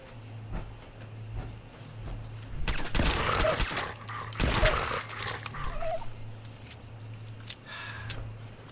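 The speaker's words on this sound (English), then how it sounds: "Wild dogs, but they don't seem wild." Wild dogs in Fallout 4 clash with gunfire: a burst of rapid shots in the middle, with growls and whimpers from the dogs under a steady game-world hum.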